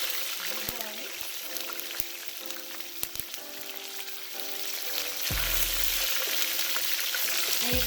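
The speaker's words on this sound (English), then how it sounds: "we just let these fry out a bit in the oil first before adding the fish" Scotch bonnet pepper and garlic fry in oil for Jamaican-style fried fish, a steady sizzle that swells louder partway through, with light clinks of a utensil.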